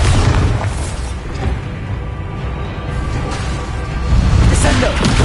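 A Bombarda spell explosion in Hogwarts Legacy makes a loud, sustained booming blast of rumbling noise that dips briefly and then surges again near the end.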